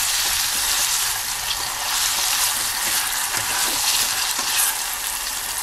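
Mushrooms sizzle steadily in garlic oil over low heat, a continuous close crackling fry with occasional stirring scrapes and no voices.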